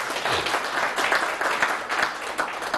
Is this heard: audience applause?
yes